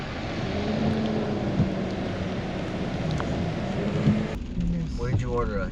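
Rain falling on an outdoor construction site during a concrete slab pour in El Centro, California, a steady close hiss with faint scattered drips and low rumbles, and no speech over it.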